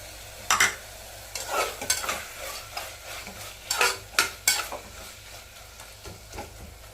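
Chopped tomatoes with a little salt being stirred and fried in a pan for homemade chicken biryani: repeated close scraping strokes of a spoon over a soft, continuous sizzle, with no talking.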